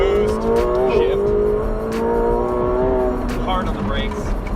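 A boosted car is driven hard in second gear and then shifts up under heavy acceleration. The engine drones with a rising pitch, and a quick gear change interrupts it. The engine noise is steady and close, and someone talks over it.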